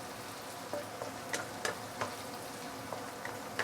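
Chopped ginger and garlic frying in a pan for a mushroom and minced pork paste, a soft steady sizzle with scattered crackles and pops spaced irregularly throughout.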